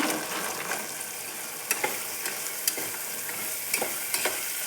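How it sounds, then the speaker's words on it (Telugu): Field beans frying with tomato and onion over a low flame make a steady, moderate sizzle punctuated by several sharp spatula taps and scrapes against the pan. "టూ మినిట్స్ ఇలా లో ఫ్లేమ్లో వేయించుకోవాలి"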